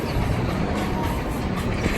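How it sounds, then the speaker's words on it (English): The Dragster roller coaster train at Cedar Point amusement park roars past, a loud, steady, dense rushing rumble that fills the whole moment without break, no voices heard. "Oh, there goes another train on Dragster."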